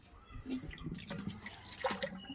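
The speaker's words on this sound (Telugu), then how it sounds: "నల్లొచ్చింది ఫ్రెండ్స్. ఇక మాకైతే నీళ్ళు పడుతున్నాం మేము." Tap water runs into household containers, a close, steady splashing and gurgling stream that fills the short stretch, with faint voices in the background.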